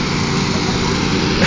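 Lawn mower engines roaring at a tractor pull, a loud, steady, high-pitched motor drone filling the whole moment without letup.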